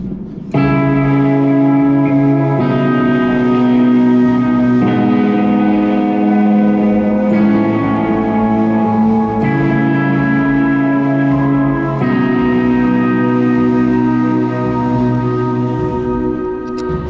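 Clean electric guitar playing sustained chords that ring out with a reverberant, shimmering tone, changing every couple of seconds, steady and fairly loud.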